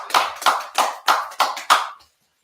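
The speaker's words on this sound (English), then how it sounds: "Let's clap it up." A small audience at a lecture-style gathering claps in six separate, evenly spaced bursts, loud and close, with no voices during the clapping.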